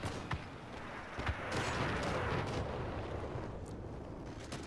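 Cannon barrels firing and their shells hitting in the Crossout vehicle combat game, heard as a few sharp booming blasts over a rumbling roar of battle noise.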